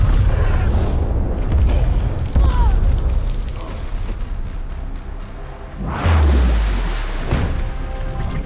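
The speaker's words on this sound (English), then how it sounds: "there was another explosion" Explosions from the Aquaman film: two heavy booms with rumbling low ends, one near the start and another around six seconds in, separated by a churning, noisy stretch of debris and action sound.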